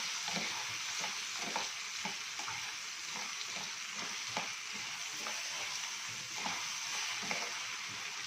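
Rice stirred in a pot, a soft steady sizzle with a regular rhythm of scraping strokes repeating about every half second.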